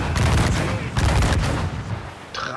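Rapid booming ship cannon blasts from Assassin's Creed IV Black Flag, dense and loud, rolling together into a continuous barrage that eases slightly toward the end.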